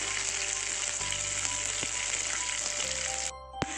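Onions sautéing in a pan, a steady close sizzle with occasional stirring knocks, the hiss briefly dropping near the end before a sharp clack.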